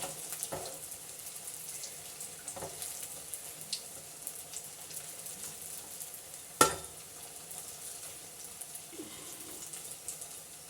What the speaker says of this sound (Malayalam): ഒരു മീഡിയം ഫ്ലെയിമിലാക്കിയിട്ട് നമുക്ക് ഓരോന്നോരോന്നും പൊരിച്ചെടുക്കാം